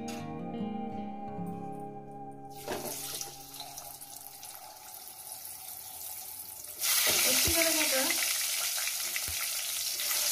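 Boiled eggs go one by one into a spicy masala for an egg kosha, frying with a steady hiss that jumps noticeably louder partway through, with faint clatter and no talk.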